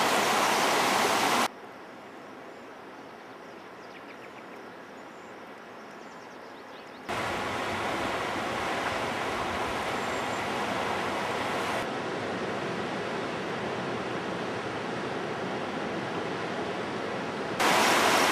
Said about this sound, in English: Look how high the river is.